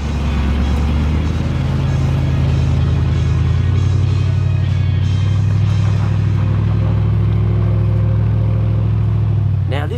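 A V8 engine powers a 4WD rig along a track in far north Queensland, a loud, steady low rumble that holds throughout with a slight rise in pitch midway.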